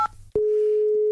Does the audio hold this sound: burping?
no